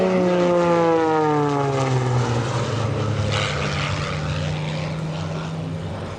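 Scott Francis's roughly 1,200-pound aerobatic propeller airplane roars past at an airshow, loud and close, its engine pitch falling steadily as it sweeps by and begins to recede.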